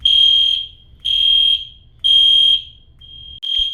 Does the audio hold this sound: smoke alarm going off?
yes